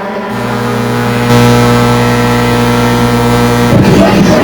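Mini stock race cars circle Flamboro Speedway during a 15-lap feature, their engines droning loud and steady as several cars pass close by in a continuous roar.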